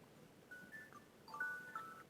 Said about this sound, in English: And that was my alarm.